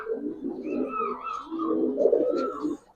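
Giribaz pigeons in a loft give close, soft, throaty coos in two rolling phrases, with no other sounds around them.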